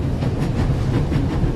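A moving train at full speed in the video game The Raven, a steady loud rumbling rattle with faint rhythmic clatter, continuous and without talk.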